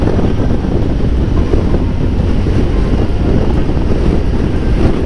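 Wind roaring while driving along Ruta 40 in Patagonia, Argentina, toward a valley, a loud steady buffeting rush that fills the sound with no break.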